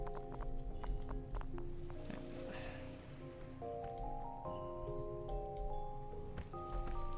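Horse hooves clip-clopping in the logistics and factory building game Kubifaktorium, a run of crisp, evenly spaced hoof clops over soft tonal game music and ambience.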